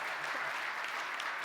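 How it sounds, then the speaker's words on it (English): Applause from an audience at a college athletics fundraising event, a brief, even patter of clapping heard fairly far off and soft. "I'll clap for that."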